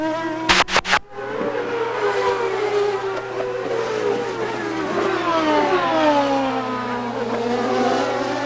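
IndyCar race cars at the CART 2001 Detroit street race scream past, their high engine notes rising and falling in sweeping pitch arcs after a sharp burst at the start, loud and continuous over a steady broadcast hum.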